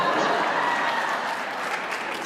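Audience applause at a comedy show, a full, steady wash of clapping from a crowd that holds evenly for a couple of seconds.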